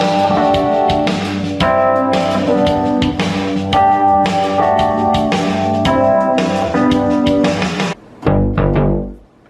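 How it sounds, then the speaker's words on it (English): An 80s-flavored chord progression plays over a shuffle rhythm track, with sustained harmonic chords changing every couple of beats above a swung drum groove before ending in a brief low note and fading out. "So my chord progression with the rhythm will sound like this."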